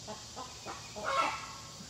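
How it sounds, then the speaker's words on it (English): A chicken clucks nearby in a few short, soft calls, ending in a louder squawk-like cluck, heard alone over faint outdoor background noise. "Chicken wanted to be in the documentary too."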